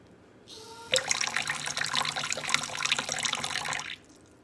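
Water streams steadily from a running household tap for about three seconds, close and fairly loud, where a cat is playing, then it cuts off abruptly.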